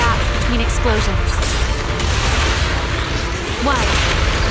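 Booming explosions and bursts ring out in Zenless Zone Zero combat, dense and loud throughout, layered with game music and effects while characters speak over them.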